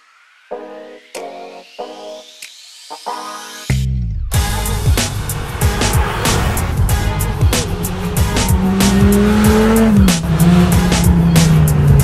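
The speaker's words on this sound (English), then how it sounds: "Look at this Defender with some crazy supercharger on it." A Land Rover Defender with a supercharged engine revs and drives close by, a loud, sustained engine roar with a rising supercharger whine that builds over several seconds after a brief musical intro.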